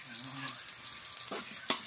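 Garlic and onion fry in a pan with a steady bright sizzle, punctuated by a couple of louder stirring scrapes toward the end, heard up close and fairly quiet.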